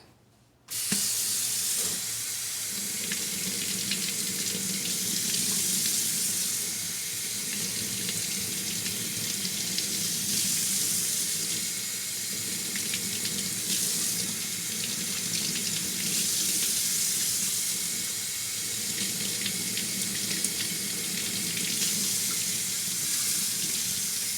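Tap water runs steadily from a faucet indoors for flushing potted orchids, a loud continuous splashing hiss that starts abruptly and carries on alone without talk.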